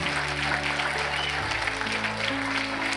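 Young players applaud their coaches at a youth football club's annual talent awards ceremony, a steady, dense round of clapping filling the room, with a low musical hum sustained underneath.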